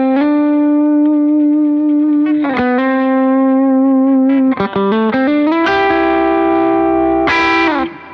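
An electric guitar runs through a compressor pedal on a pedalboard, held notes and chords sustaining evenly at steady volume with a few slides and changes, played alone and close for about eight seconds.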